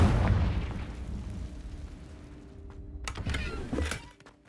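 Confringo blasting spell in Hogwarts Legacy, a muffled booming explosion at the start that decays into a low rumble, followed by a few sharp crackling bursts near the end.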